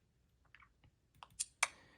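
Nintendo Switch 2 Joy-Con used in mouse mode, giving a few sharp, crisp plastic clicks that get louder toward the end. They are close and isolated, with no voice.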